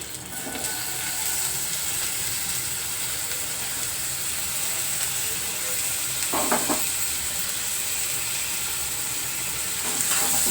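Chopped medium tomatoes and green chillies sizzle steadily in a hot pan for a prawn and drumstick curry, a constant bright frying hiss with a few brief scraping stirs.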